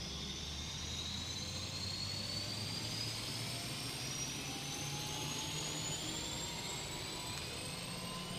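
An AW-109 helicopter engine spools up in the Prepar3D flight simulator, a steady loud turbine whine with rising tones over a dense broadband roar that holds for the whole stretch, with no talk over it.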